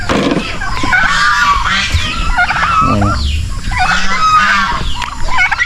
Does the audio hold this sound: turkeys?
yes